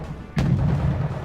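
A Leopard 2A4 versus T-72A tank battle in a video game: one heavy cannon shot booms sharply out of a quiet background, then a low rumble rolls on after it.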